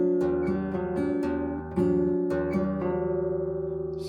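Strummed acoustic guitar chords from a song's fingering, with the open third string left ringing alongside fretted notes on the fourth and second strings; several close, clear strums that sustain and overlap, with no talking.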